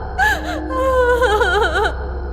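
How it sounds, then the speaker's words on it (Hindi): A girl cries at night with high, wavering, sobbing wails that rise and fall over a steady low hum, close and loud throughout. "इतनी रात गए लड़की के रोने की आवाज"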